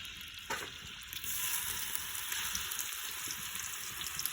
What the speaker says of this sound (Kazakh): Етті жақсылап қуырып аламыз.